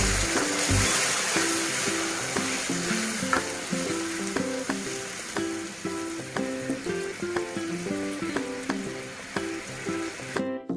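Vegetable gravy stirred in a pan after water from the mixer jar is poured in, a steady sizzle with regular scraping strokes of the spoon repeating close by, with no talking.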